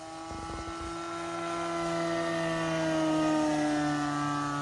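A Great Planes quarter-scale RV-4 model airplane with a nitro engine flies overhead, its steady high-pitched buzzing drone sliding gradually lower in pitch as it passes, growing slightly louder toward the end.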